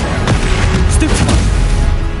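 A spell blast in the video game Hogwarts Legacy, a loud booming magical hit amid dense, noisy combat effects, with a brief crackling burst in the middle.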